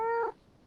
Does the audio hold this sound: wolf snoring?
no